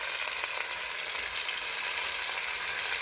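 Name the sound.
potatoes frying with salt and turmeric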